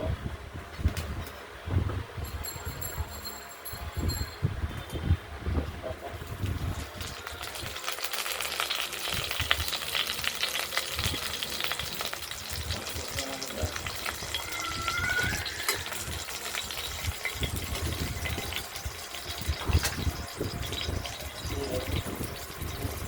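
Whole tempering spices sizzling in hot oil in a kadai, while cooking a vegetarian paneer bora and potato curry, with bursts of crackling spatter, some clattering and background noise running throughout.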